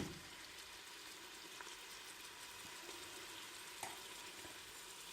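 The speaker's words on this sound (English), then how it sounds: "And you can hear the sizzling sound." Onions sizzle and fry steadily in a pan for Portuguese kale soup, a constant close crackle with a few faint clicks and stirs.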